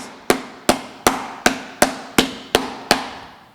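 Pork tenderloin is pounded flat for stuffing with a mallet or similar tool, eight sharp, evenly spaced whacks in a steady rhythm, loud and close with short decays and no talk.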